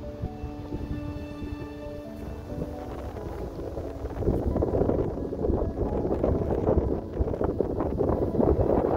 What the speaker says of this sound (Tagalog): Mararamdaman nyo at madidinig nyo ang lakas ng hangin.